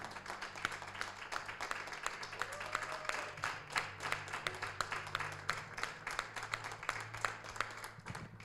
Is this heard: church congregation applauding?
yes